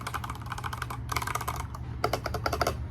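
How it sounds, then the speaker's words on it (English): Keys clack on a BOYI WK68 portable 68-key keyboard with soft switches, quick close bursts of typing in rapid runs separated by short pauses. "Here's the keys sound real quick."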